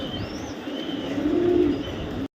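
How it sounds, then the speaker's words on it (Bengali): Racing pigeons coo in low, soft, rolling murmurs, swelling slightly in the middle, with a faint chirp of another bird in the background. "এটা কিন্তু একটা মাদি কবুতর"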